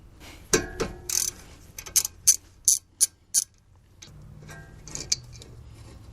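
A 12mm brake caliper bolt being loosened on a Honda Accord LX, a quick series of sharp ratchet clicks in short bursts, close and crisp, followed by faint handling noises.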